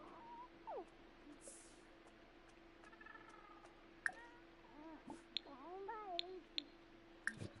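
A pet cat in The Sims video game meowing several times in short rising and falling calls, faint over a steady hum, mixed with light ticking and clicking sounds.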